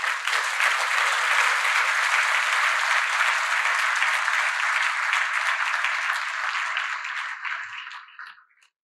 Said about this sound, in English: A round of applause for Waziri Moses Kuria.